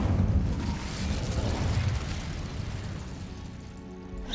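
Incendio fire spell cast in Hogwarts Legacy, a loud roaring burst of flame with deep rumbling that swells at the start and then slowly fades over several seconds.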